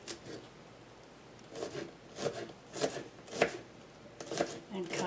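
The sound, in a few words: knife slicing garlic cloves on a cutting board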